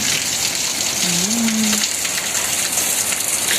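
Heavy rain pours steadily at an outdoor wonderland park, a dense continuous hiss of water with a brief low tonal sound briefly cutting through near the middle.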